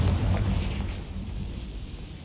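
A Confringo fire spell blasts in Hogwarts Legacy, one heavy low boom that bursts at once and rolls off into a rumbling decay over a couple of seconds.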